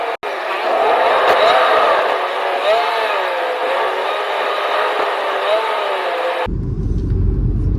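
An Uber car rolls through Kochi traffic with a steady engine and road rumble and wavering tonal sounds, then cuts off abruptly near the end.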